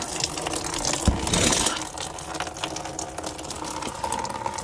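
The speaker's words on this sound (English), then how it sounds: "Get your pan ready and let this thing drip." Coolant from a Nissan Maxima/Altima 3.5 V6 radiator drains into a pan, a steady broadband watery gush with a louder splashing burst early on, close by with no talking.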